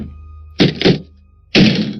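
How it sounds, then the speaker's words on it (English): Heavy blows hit a front door as someone tries to force it open: two quick thuds close together, a pause, then a third loud bang, each sounding near and solid. "There was a bang at the front door."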